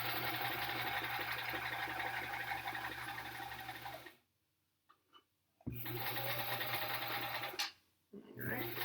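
A sewing machine stitches a quilt block in a straight line. It hums loud and steady at close range, stops for about a second and a half, then runs again before a short final pause.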